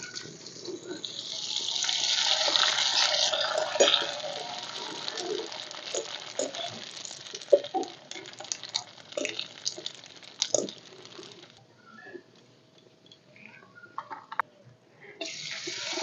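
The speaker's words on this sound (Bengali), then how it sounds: "তেল গরম হয়ে গেছে এবার পাঁপড়গুলো আমি দিয়ে দেবো" Thin rice papads hit hot oil and fry in a bright, hissing sizzle peppered with sharp crackles, strongest early, thinning out and dropping almost silent before flaring up again.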